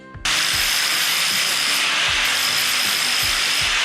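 A grinder on a welded steel seat base: loud, continuous abrasive metal grinding starts abruptly and runs on at full intensity, a harsh hissing roar with a steady high whine.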